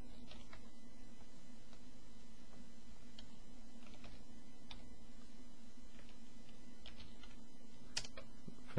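Soft, scattered keystrokes tap on a computer keyboard during a Windows 8 app settings change. A steady low hum sits underneath and no one speaks.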